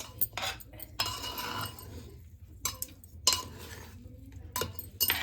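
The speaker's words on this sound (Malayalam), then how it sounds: "ഇത് നമുക്ക് ഇളക്കിയെടുക്കാം." A metal utensil stirs chicken biryani in a pot, scraping and clinking against the sides in short bursts separated by brief pauses, close and fairly loud, with no talking.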